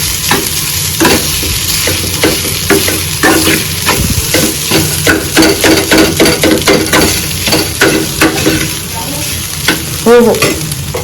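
Egg rice is stirred and mixed as it fries in a pan, with loud, close, rhythmic scraping and clinking of a utensil over a continuous sizzle.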